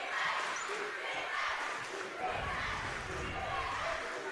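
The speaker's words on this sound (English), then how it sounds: "As the crowd in Wendover is getting loud." A basketball crowd in a Wendover gym during a tied game between Rich and Wendover swells steadily louder, a dense roar of cheering and shouting that holds for several seconds with no break.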